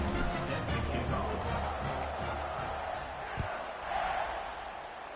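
Stadium crowd in a football video game roars steadily throughout, a broad wash of cheering and noise during a kickoff return, with a brief thump near the middle.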